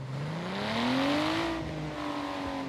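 Nissan GTR in a racing video game, engine revving up in a smooth rising whine that peaks and settles into a steady drone, loud and close with no talk.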